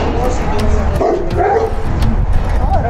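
Trained security dogs in Kenya bark and yip repeatedly at close range while people talk over them.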